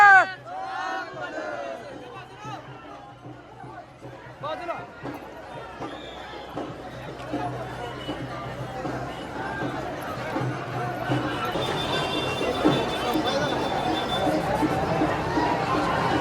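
A dense crowd of devotees at the Balumama temple darshan in Kolhapur fills the air with loud babble, shouts and shuffling, and the din swells toward the end while people talk nearby.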